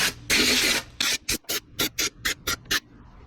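Bolt holes on used rock sliders are cleaned out with a tool, opening with one long harsh scraping burst and followed by a quick run of short, evenly spaced rasping strokes, close up and with no voices.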